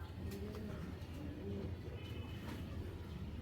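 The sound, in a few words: giribaz pigeons cooing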